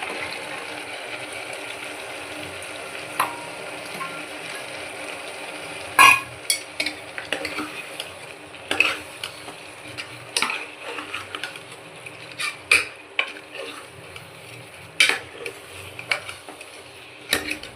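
Spices and kasuri methi sizzle quietly in oil in a pan, with scattered clinks and stirring taps growing more frequent partway through; no one speaks.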